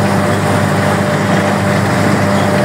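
An old Farm Haul tractor with a diesel engine, hitched to a trailer for hauling straw at a traditional harvest event in the Vendée, runs with a steady, loud, unbroken drone throughout.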